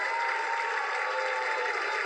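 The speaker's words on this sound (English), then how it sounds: "Somebody clap your hands and give him praise." A continuous wash of hands clapping from a crowd at a gospel praise show, even and sustained without breaks.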